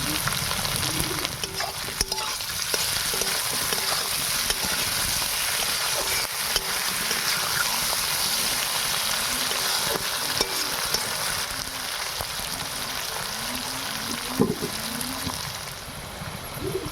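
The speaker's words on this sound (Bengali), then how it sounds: "এখানে পেঁয়াজ আর আলুটা ভাজা হয়ে গেছে।" Onion and potato fry in a pan with a steady, close sizzle, broken by occasional stirring scrapes and clinks, and no voices heard.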